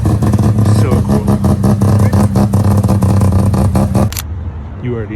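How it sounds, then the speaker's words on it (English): A Mazda RX-3 rotary engine revs loud and close in a series of rapid pulsing bursts, rolling out of a cars and coffee meet. After a few seconds the noise cuts off abruptly and a voice speaks briefly. "Got a RX-3. You see this thing all the time, but it sounds so nice every time you see"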